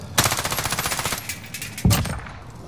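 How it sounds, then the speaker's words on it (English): Automatic gunfire in a video game shooter from enemies firing out of a building window, a quick rattling burst followed by a pause and a single louder shot, fairly loud with no speech. "There's some guys shooting from the window."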